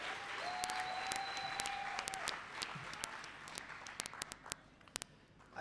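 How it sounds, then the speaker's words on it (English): An audience at a community colleges infrastructure programme launch applauds the MEC, a faint, scattered round of clapping that thins into sparse individual claps toward the end, with a tone and background murmur early on. "Let us give the MEC a big round of applause."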